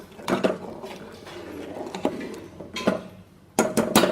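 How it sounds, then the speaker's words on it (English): Pineapple rasam garnished with cilantro is stirred in a metal pot, giving scattered clinks and scrapes of a utensil against the pot, several sharp knocks, and a louder clatter near the end. "Let us give all of this a nice mix."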